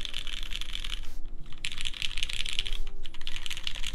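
Steady typing on an Emery65 custom mechanical keyboard, a continuous rapid clatter of keystrokes close to the mic with one brief pause partway through.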